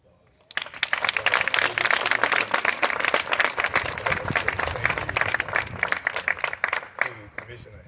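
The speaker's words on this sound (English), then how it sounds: "I think we all should give a round of applause." A crowd at an early learning center groundbreaking ceremony breaks into a round of applause, dense clapping starting abruptly and holding steady before thinning out near the end.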